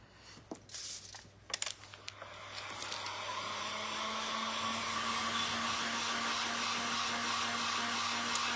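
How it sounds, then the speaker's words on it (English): A heat tool blows a constant, rising whoosh over vintage decoupaged butterflies after a few brief crinkles and taps at the start, then holds a steady airy roar to the end. "I'm just going to give them a little bit of heat just to dry them off."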